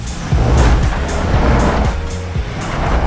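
A Subaru Outback driving off-road, its engine a steady low rumble mixed with rushing, rough-terrain noise and periodic bumps, fairly loud and continuous throughout.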